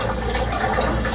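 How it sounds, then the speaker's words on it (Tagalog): Water being refilled, likely poured into a container for drinking through a straw, with a steady rushing liquid stream that stays loud and even throughout. "So, nag-refill naman ako ng tubig."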